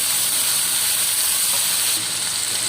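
Tadka of salt, turmeric powder and crushed chilli sizzles in oil in a pan for tawa aloo gobhi, a steady close hiss with no talk.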